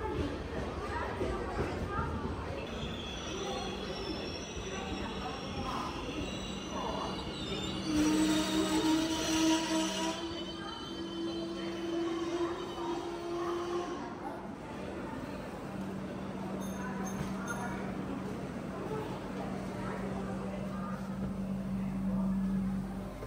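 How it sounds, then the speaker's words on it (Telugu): Prashanti Express passenger train running near Ichchapuram, a steady rumble of cars on rails with wheel squeal tones rising midway, continuing under a person talking throughout. "ట్రైన్ ప్రశాంతి ఎక్స్ప్రెస్ 8:30కి ఇచ్చాపురం వస్తుంది"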